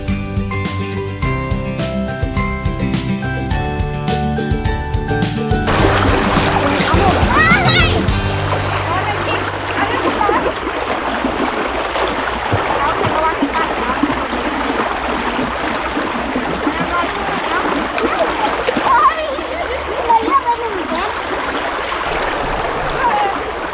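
A clear-water waterfall stream at Lan Lak in Cha-am district, Thailand, splashes and rushes steadily. Music plays for the first few seconds, then the broad, constant water noise continues alone at a fairly loud level.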